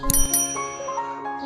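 A bright bell-like notification chime rings out twice in quick succession, then a softer ringing tail with lighter tinkling fades over a second and a half, with no one talking.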